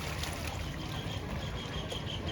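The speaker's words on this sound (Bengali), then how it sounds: "ওদিকে আবার ওই একটা নৌকা খুব দ্রুতই চলে আসছে" A boat runs on the Padma river, its low rumbling drone and water wash carrying steadily at moderate distance without any voices.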